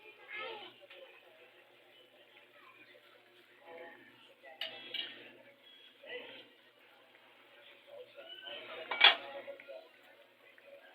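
Metal clinks and cutlery-like knocks of a cooking pot, ending in one sharp clang as a lid goes on, scattered and fairly quiet among soft kitchen handling, with people talking intermittently.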